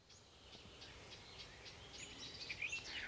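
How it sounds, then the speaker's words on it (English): A nightingale sings faintly in a series of thin, high chirps and short trilled phrases that rise toward the end, alone over a soft background hiss. "Now this is a nightingale on the screen."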